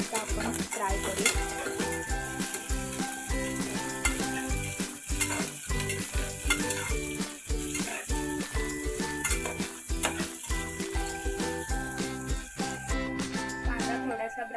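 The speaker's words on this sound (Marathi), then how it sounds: "तेल मस्त तापलं आता आपण कांदा मस्त ब्राऊन होईपर्यंत आपण फ्राय करू" Onion frying in hot oil until browned for masale bhat, a close, steady crackling sizzle with repeated spoon-stirring scrapes and clinks against the pan, continuous throughout, with no talking.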